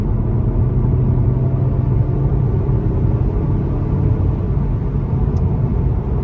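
Engine of a 2022 Mazda 3 hatchback 2.5 Turbo in sport mode under hard acceleration, a loud, steady low rumble filling the cabin without speech.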